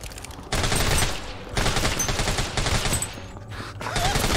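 Rapid bursts of gunfire from the zombie shooter Deathly Stillness come in loud, dense volleys, three sustained strafes with short pauses between them, with no talk over the shooting.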